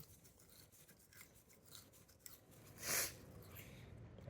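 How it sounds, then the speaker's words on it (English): A toothbrush scrubs carbon deposits from inside an air idle control valve, making a faint, steady scratchy rasp under hiss. A brief louder swish comes near the end. "Take your toothbrush and scrub on the inside."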